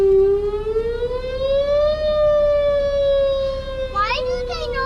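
A tornado warning siren under test, its horn rotating, gives a loud, steady wail that rises in pitch, then holds and wavers as it spins, with children's voices briefly audible near the end.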